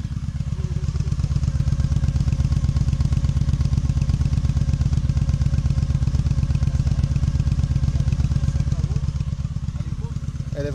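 A motorcycle engine purrs at a steady idle close by, a loud low throb of even rapid pulses that holds for about ten seconds, easing slightly near the end.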